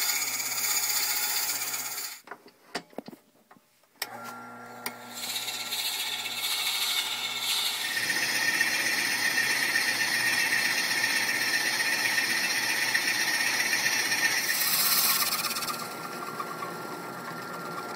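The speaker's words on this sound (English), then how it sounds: "grab some 1 1/16 inch Forstner bits and drill the rest of the way through the blank" Forstner bit, 1 1/16 inch, boring through a wooden peppermill blank on a lathe: a steady mechanical whir and scraping grind running throughout, briefly dropping away before resuming loud and continuous.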